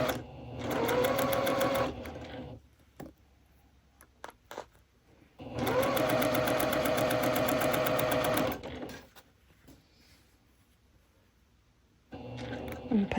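A sewing machine stitches a sawtooth star quilt block in two bursts of rapid, even whirring, separated by quiet pauses with faint handling noises, and starts up again at the end.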